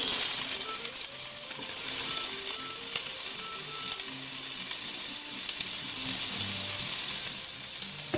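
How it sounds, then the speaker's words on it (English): Onions sizzle steadily as they brown in olive oil in a pan, a soft continuous crackle with occasional light clinks, for a mussels in white wine dish. "And we're going to brown the onions"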